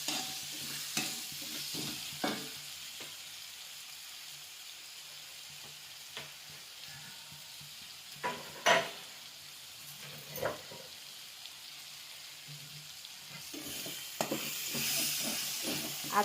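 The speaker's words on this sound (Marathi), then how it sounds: "आता याला चांगलं मिक्स करून घेणार आहे व हलवीत असंच आपलं 2 मिनिटं हलवत" Soya chunk and potato curry in a Kolhapuri-style pan, stirred with a spoon that scrapes and taps the pan in irregular strokes over a constant close sizzle and hiss, no talking.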